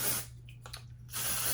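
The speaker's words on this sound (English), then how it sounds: "now we're going to go in with the texture spray" Texture spray misting onto short curled hair, two bursts of close hissing spray separated by a brief pause with faint handling noise.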